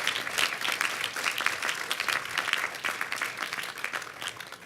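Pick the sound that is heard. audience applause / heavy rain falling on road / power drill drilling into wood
audience applause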